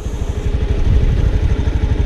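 A kickstarted scooter engine runs at idle close up, a fast, uneven putter with rattling pulses that holds steady and fairly loud for about two seconds, with no voices.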